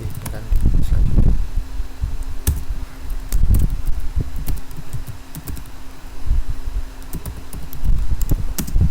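Typing on a computer keyboard, Enter and Ctrl+D among the keys pressed, comes as a steady run of loud, close keystrokes with brief pauses and a low hum behind.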